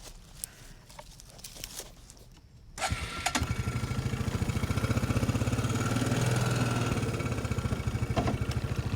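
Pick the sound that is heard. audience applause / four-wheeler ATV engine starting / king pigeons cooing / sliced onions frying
four-wheeler ATV engine starting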